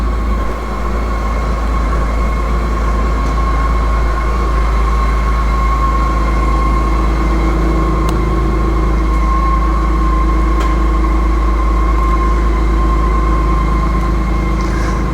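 A BMW K1600 GTL motorcycle riding along wet roads after overnight rain, a steady continuous engine and wind drone with a sustained mid hum, loud and unbroken throughout.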